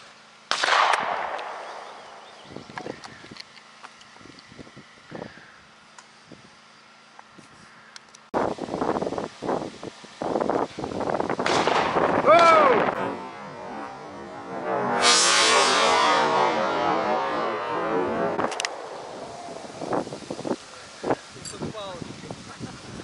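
Shots ring out outdoors with new Azot shotgun cartridges, several sharp loud reports spaced seconds apart with wind noise between, while people talk nearby.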